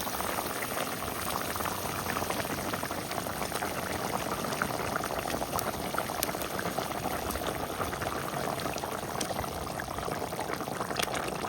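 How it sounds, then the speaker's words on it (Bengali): Water boils in a cooking pot ready for a thin hilsa fish curry with eggplant, a dense, steady bubbling roar that continues evenly throughout with no speech. "জল ফুটে উঠেছে"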